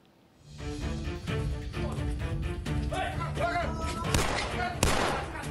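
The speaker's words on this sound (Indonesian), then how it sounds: "Suara tembakan ke udara terdengar saat aparat Satreskoba Polres Jember mengejar dua orang pengedar narkoba" Police warning shots fired into the air during a drug-dealer chase in Jember, East Java, crack out as two sharp, loud reports near the end, over a steady rumble of outdoor background noise.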